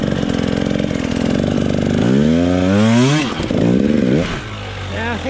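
A motorcycle fitted with a new high-clearance exhaust pipe revs hard and close, its loud engine note sweeping up and down in pitch over several seconds before settling back toward a steady idle.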